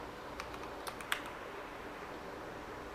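Fingers type a command on a computer keyboard at a server terminal, a few faint, quick key clicks in the first second, then quiet room tone.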